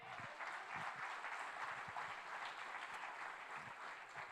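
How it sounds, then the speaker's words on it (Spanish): Steady applause from a church congregation, sustained and fairly quiet throughout, with no talking over it. "Dale un aplauso al Señor."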